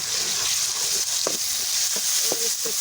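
Garlic hits browned onions frying in a pan over an open fire outdoors for chicken karahi, a steady hiss of sizzling with a few soft scrapes and clinks of stirring, close by.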